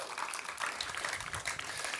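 An audience at a clean energy and renewable propane ribbon cutting in Raleigh, North Carolina claps in a short burst of steady applause from a modest crowd, indoors and fairly close.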